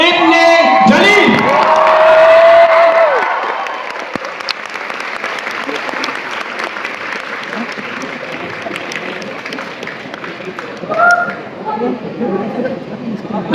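A TEDx audience bursts into loud applause and cheering as the speaker comes on stage. The clapping fades after a few seconds into a busy crowd murmur with scattered voices and occasional shouts.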